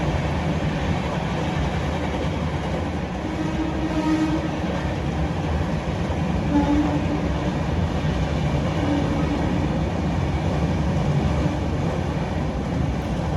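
A train rumbles steadily past close to a railway station, a continuous broad roar with faint wheel clatter and no pauses, and no one speaking.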